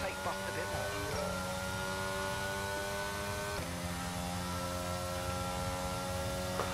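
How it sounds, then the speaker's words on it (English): An idling F1 race car engine in the F1 22 racing game drones steadily as a low, even hum with layered harmonics, shifting pitch slightly twice but otherwise constant and moderately quiet. "And the engine's still running, which is off."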